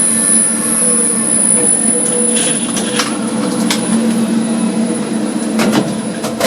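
Lift motors run in a tower block's lift motor room in south London, giving a loud, steady machine drone with a high whine and scattered sharp clicks throughout.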